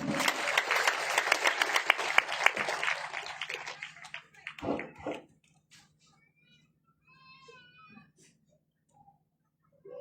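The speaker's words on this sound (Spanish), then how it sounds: "Dale palmas a Cristo." A congregation at a spiritual festival in Paucara, Huancavelica, claps in dense rhythmic bursts for about five seconds, then the clapping stops abruptly and leaves near-silence with faint scattered sounds.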